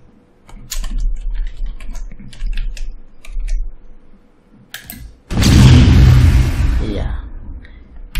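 A loud, sudden boom of an RPG explosion in a video game bursts in after quieter tapping and faint talk, then rumbles and slowly decays.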